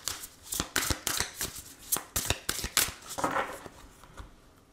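Tarot cards are shuffled and cut for a reading, a close, quiet run of crisp riffling slaps and flicks in an uneven rhythm, about a dozen quick bursts before fading out.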